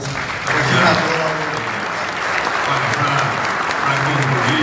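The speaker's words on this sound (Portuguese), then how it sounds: "eu gostaria de pedir uma salva de palmas para o senador" Applause for a senator at a business leaders' group lecture, a steady wash of clapping from a crowd lasting the whole stretch, with voices murmuring underneath.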